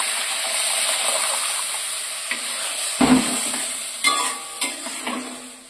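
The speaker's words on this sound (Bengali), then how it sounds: "এবার আমি একটু জল দিয়ে দিচ্ছি।" Water poured into an egg curry already cooking in a pan, a steady sizzle that flares sharply when the water goes in, followed by a few stirring clinks, close up with no talking.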